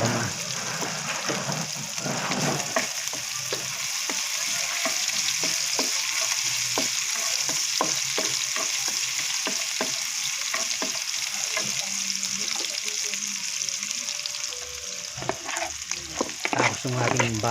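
Thinly sliced ginger frying in a pot for goat offal papaitan, a loud continuous sizzle with sharp crackles and spatters, close by with no talking.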